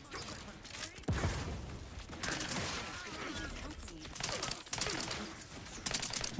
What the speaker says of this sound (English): That's a turret shooting me.